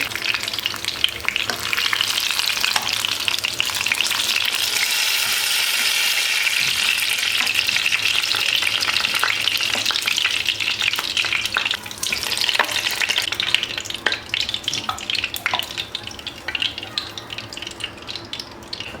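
Potato pieces fry in a generous amount of oil in a pot with a loud, dense, unbroken sizzle and crackle. Occasional stirring scrapes come through, and the sound eases slightly toward the end.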